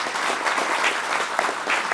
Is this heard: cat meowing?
no